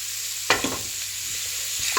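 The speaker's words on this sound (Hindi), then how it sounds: "प्याज डाल के भी बस हल्का सा सौटे करना है इसको।" A small, finely chopped onion sautés in a hot pan, giving a steady sizzle broken by a few sharp stirring scrapes and clatters close by.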